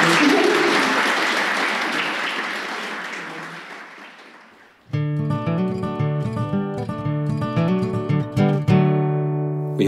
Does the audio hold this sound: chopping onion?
no